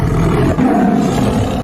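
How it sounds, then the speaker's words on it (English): A tiger gives one loud, sustained roar lasting under two seconds, close and alone with no talk. "Stripy, sneaky, and super strong, this big kitty loves the jungle."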